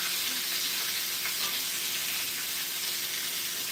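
Steak searing in a hot pan near the front of the burner, a steady broad sizzling hiss held at an even level, close and moderately loud, with nothing else over it.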